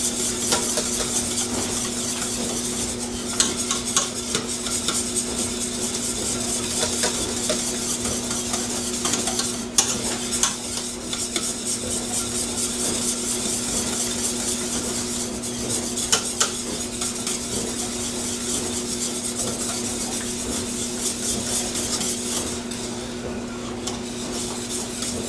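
Cream gravy being stirred in a pan, a continuous scraping and rasping of utensil against metal over a low sizzle, with occasional small clinks, steady and close.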